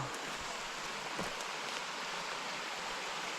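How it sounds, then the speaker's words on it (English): A small alpine waterfall rushes with a soft, steady hiss of falling water, heard evenly at a moderate distance for a few seconds with no voices. "I can look at this beautiful little waterfall."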